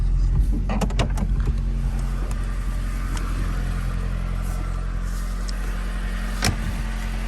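An old Tofaş car rolls slowly through grass to park, its engine humming in a steady low drone with faint creaks and rustles from the body and undergrowth, close and unbroken by any voices.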